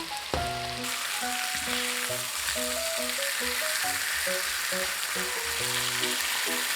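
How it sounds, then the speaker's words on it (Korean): Beef searing in a hot frying pan for a rosé pasta, a steady close sizzle and crackle of fat running throughout, with soft background music and no talk. "고기 굽기 정도는 본인 기호에 맞게 구워주세요"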